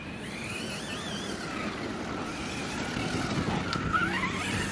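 A Hobao Hyper 8SC radio-controlled car whines as it drives, its small engine rising and falling in pitch with throttle changes, moderately close and steady with no talk.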